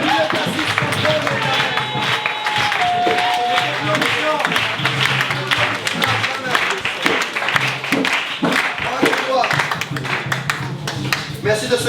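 Church congregation at a Congolese service cheering and clapping for Jesus, a dense, continuous wash of claps and joyful voices filling the room with steady loudness throughout.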